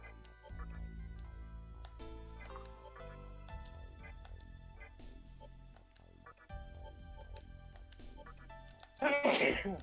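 A single sharp sneeze bursts out near the end, louder than the game music from Shin Megami Tensei 3 Nocturne that plays throughout during a live stream.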